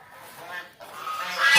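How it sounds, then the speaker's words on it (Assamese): Geese at a riverside spot give a run of nasal honks, rising in loudness and pitch toward the end, close and clear with no talk over them. "ইয়াত ৰাজহাঁহ আছে, ৰাজহাঁহ মই দেখুৱাম। এয়া চাওক ৰাজহাঁহ"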